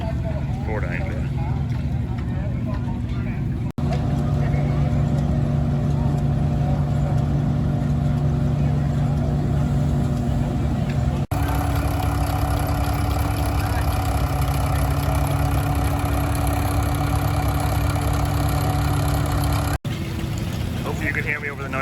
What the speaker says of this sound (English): the noise of the stationary engines beside me here